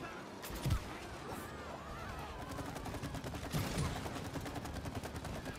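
Rapid gunfire in the video game It Takes Two, a fast, even burst of shots that rattles on throughout, with a couple of heavier impacts standing out.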